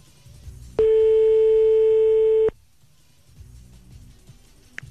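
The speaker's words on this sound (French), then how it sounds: "Il y a personne qui décroche, Sandy." A telephone line rings out while calling a hotel and nobody picks up, giving a single loud, steady electronic tone lasting just under two seconds, then quiet room noise.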